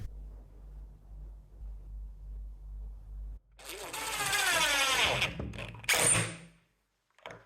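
A power drill drives screws through small black hinges into a bathroom door during a house renovation: a low hum at first, then a loud whirring burst with rising pitch, ending in a sharp clack.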